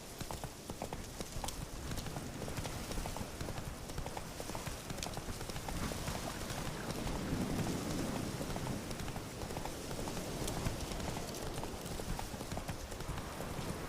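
The horse Roach trots through The Witcher 3 game world, its hooves clip-clopping in a steady, continuous rhythm for the whole stretch over a soft hiss like falling rain.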